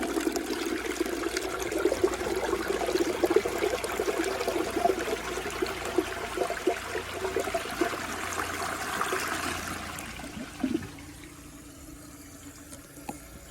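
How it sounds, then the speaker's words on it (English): A 2002 Crane Atlas toilet flushes with a steady close rush of water for about ten seconds, then drops to a quieter trickle as the tank refills. "And that has a lot better of a flush."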